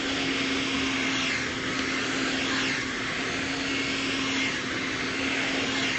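A hair dryer blows steadily on natural curly hair, a loud, continuous airy roar with a constant motor hum that holds unchanged for the whole stretch, with no voices.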